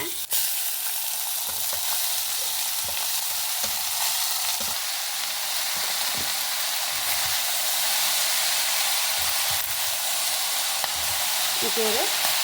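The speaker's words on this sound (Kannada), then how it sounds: "ಅಂದರೆ ಕತ್ತರಿಸ್ಕೊಂಡು ಪಾಲಕ್ ಇದಕ್ಕೆ ಹಾಕೊಂಡ" Chopped spinach (palak) added to onions sizzles in a pan, a loud continuous frying hiss with occasional stirring scrapes and taps throughout.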